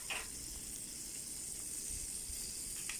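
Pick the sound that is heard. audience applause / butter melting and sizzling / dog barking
butter melting and sizzling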